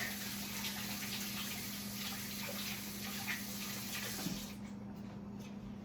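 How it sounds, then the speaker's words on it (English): Running tap water rinses hands in a home kitchen while a cheesecake is being made, a steady broadband wash with a low hum beneath, cutting off near the end. "I'm gonna rinse my hands again real quick."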